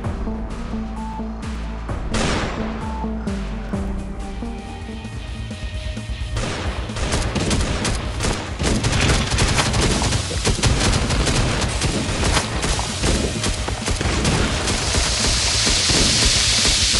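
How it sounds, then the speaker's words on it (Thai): A gun turret in the video game Last Day on Earth fires in loud, rapid bursts of shots mixed with crashing impacts, building into near-continuous gunfire in the second half. "ป้อมปืน ที่ผมบังคับเนี่ยยิงแรงขึ้น"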